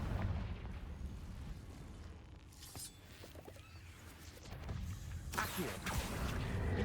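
Repeated spell blasts from a Hogwarts Legacy duel, including the Confringo explosive curse, form a continuous roar of booming bursts and crackling impacts, with sharper hits near three and five seconds.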